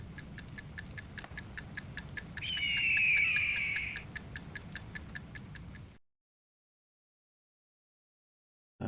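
A clock ticks at a steady even pace, each tick crisp and close, while a sustained whistle-like tone rises over it briefly in the middle before everything cuts to silence.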